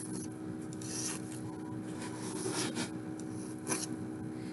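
A hand file rasps steadily across the metal of a soldered wide band ring, a continuous close scraping that keeps going without pause and carries no voice over it.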